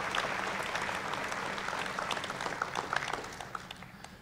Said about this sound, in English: One more time, round of applause for them.